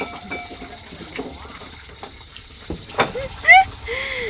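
Water runs and gurgles as it drains away from a container, a steady wet wash with rising gurgling and bubbling toward the end, while voices talk faintly in the background.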